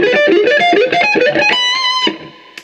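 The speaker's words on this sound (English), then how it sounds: "So if you use a distortion" A heavily distorted electric guitar plays a quick, bright lick of notes, ending on a sustained ringing tone that fades.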